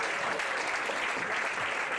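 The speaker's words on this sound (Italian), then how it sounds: "se volete potete anche regalargli il primo applauso" An audience applauds Giovanni Marcotullio on his birthday, a dense, steady wash of many hands clapping at once that fills the whole stretch evenly, with no voices rising above it.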